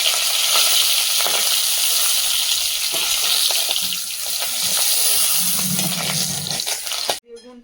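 Small river fish sputter and crackle loudly in hot oil in a home kitchen, a dense, steady sizzle with sharp pops throughout, and a brief voice near the end.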